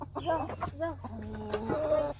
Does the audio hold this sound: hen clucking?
yes